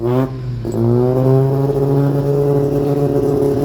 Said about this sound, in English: Chrysler 300's running, baby. It's got a little misfire, though.